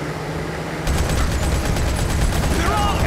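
Rapid automatic gunfire in the mobile shooter Modern Combat 5 starts abruptly after a quiet moment and continues as a dense, loud, steady barrage with game effects underneath.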